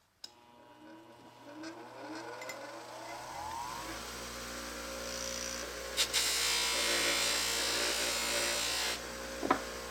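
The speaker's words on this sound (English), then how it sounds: "you turn on the grinder and you apply some of the buffing compound to the felt wheel" A bench grinder spins up and runs steadily with a felt buffing wheel, its motor hum rising then settling into a constant whir, with brief scraping bursts as buffing compound is pressed against the wheel.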